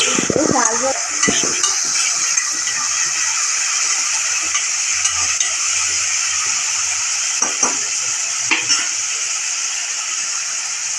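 Mint and onions fry in hot oil with a steady, close sizzle, while a utensil scrapes and clinks against the pan in repeated strokes throughout, and no one speaks.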